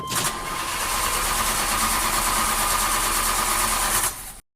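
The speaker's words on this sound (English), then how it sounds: "He tried to restart the car several times, but it wouldn't start." A car engine cranks in one long, continuous grinding whir for about four seconds without catching, then cuts off abruptly.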